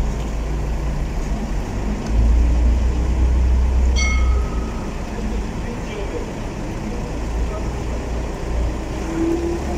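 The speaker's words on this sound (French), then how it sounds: "si vous entendez des voitures passer, des bus, des trains, c'est normal." Steady outdoor traffic rumble from passing cars, buses and trains, a broad continuous roar that swells briefly around the middle before settling back into a constant background wash.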